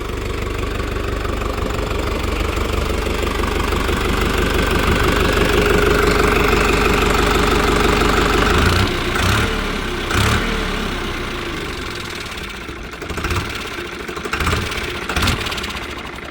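A Farmtrac Worldmax 6055 55 hp tractor engine idles steadily with a low, knocking rumble, then revs briefly a few times toward the end. No voices.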